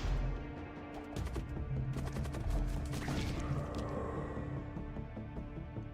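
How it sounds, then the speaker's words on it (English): Dense, crackling barrage of blight bomb blasts in the space pirate game Void War, a loud sustained clatter of bursts and impacts layered over a steady low engine hum, with no pauses across the stretch. "I know that noise. Ugh, blight bomb."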